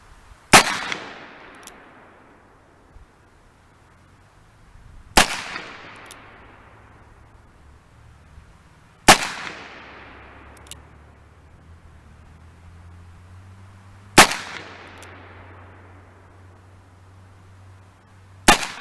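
Five sharp revolver shots from an Uberti Single Action Army chambered in .32-20, fired offhand at 25 yards, each loud crack evenly spaced a few seconds apart with a short ringing decay and quiet between.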